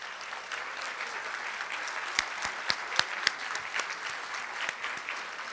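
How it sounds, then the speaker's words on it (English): A conference luncheon crowd gives Jeff a round of applause, a sustained wash of many hands clapping with a few sharper, closer claps standing out, and no talking over it. "I would like Jeff to stand up so we can give him a round of applause"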